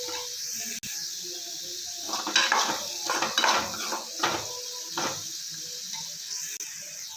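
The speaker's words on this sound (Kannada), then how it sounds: "ಚೆನ್ನಾಗಿ ಮಿಕ್ಸ್ ಮಾಡ್ಕೊಳ್ಳೋಣ. ಚೆನ್ನಾಗಿ ಒಂದು 2 ನಿಮಿಷ ಹುರ್ಕೊಳ್ಳೋಣ." Chana dal stir-fried in a pan, a spatula scraping and clattering against the metal in several bursts over a faint sizzle, close and without talk.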